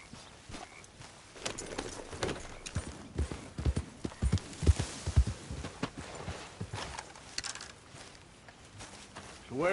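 Horse hooves clip-clop at a walking pace in the Red Dead Redemption II video game, an uneven run of close, moderately loud hoofbeats over faint background ambience.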